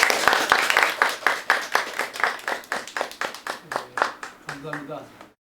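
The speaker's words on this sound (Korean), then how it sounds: "박수로 환영해 주십시오" Applause greeting a professor about to lecture on Junggoje traditional Korean music at an academy talk: a steady run of distinct hand claps, fairly close and loud, that thins out and stops after about five seconds.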